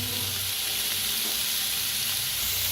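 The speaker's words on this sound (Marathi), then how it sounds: "कांदा हलकासा भाजत आलाय, टमाटो टाकूया" Onion and tomato fry in oil in a pan, making a steady, close hiss of sizzling with faint stirring underneath and no voices.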